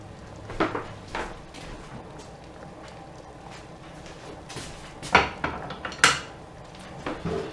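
Intermittent metallic clanks and scrapes of a pot being moved on a stovetop, a few sharp knocks spaced apart over quiet kitchen background.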